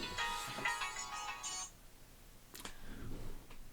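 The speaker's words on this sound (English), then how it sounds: "my phone is ringing here" Mobile phone ringtone chiming in short melodic bursts, fairly close and clear, during a livestream, then breaking off into quieter faint sounds.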